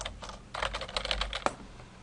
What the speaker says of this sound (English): And we can do some typing, just random typing